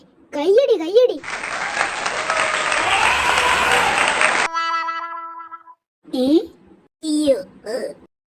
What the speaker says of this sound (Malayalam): കയ്യടി കയ്യടി.